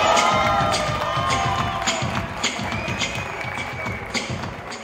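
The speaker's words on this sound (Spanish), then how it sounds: "¿Y el aplauso?" Audience at a live nightclub stage show applauding, a loud continuous burst of many hands clapping with some crowd noise mixed in, gradually thinning toward the end.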